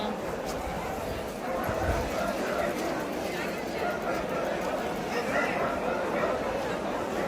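Dogs bark and yip amid a busy dog and bird market, with crowd chatter and voices throughout under a constant bustling background.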